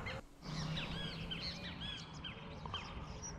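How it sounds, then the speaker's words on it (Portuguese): Small birds chirp and twitter repeatedly at a campsite on a farm in Itu, São Paulo, a dense overlapping chorus of bright calls that runs steadily throughout over soft outdoor background. "Olha os passarinhos aqui bonitinho."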